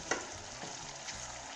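Garlic toasting in a hot pan while cooking garlic shrimp, a steady soft sizzle and crackle heard up close, with a faint clink near the start and no voices.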